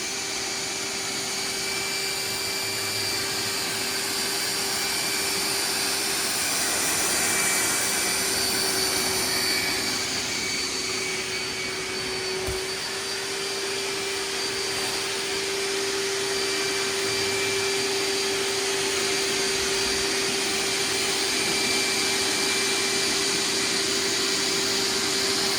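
Hoover wet/dry vacuum sucking water out of a flooded carpet, a steady loud motor whine with airy suction roar running unbroken throughout, no voices.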